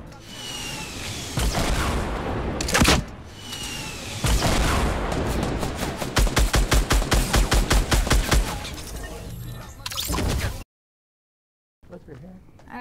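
Gunfire from a gun in Fortnite: loud bursts and a long rapid string of evenly spaced shots, close and sharp, with a sudden gap near the end before more firing.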